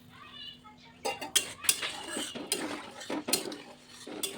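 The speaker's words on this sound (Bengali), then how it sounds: "এবার খুব ভালো করে নেড়ে মশলাটাকে মিশিয়ে দিলাম।" Spoon scraping and knocking against a pan while water-thinned spice paste for a Bengali boroli fish curry is stirred, a series of irregular metallic clinks and scrapes, close and fairly loud.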